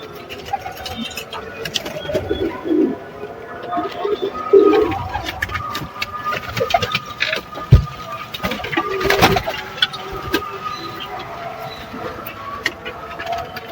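Pigeons coo repeatedly, soft and close, as they are given water mixed with medicine. Their throaty calls overlap with scattered clatter and faint background noise.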